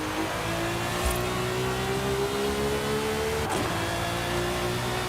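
A Ferrari Enzo's engine in Forza Horizon 5 hums steadily at moderate loudness with a slowly rising pitch as the car accelerates, joined by a brief whoosh or thump partway through.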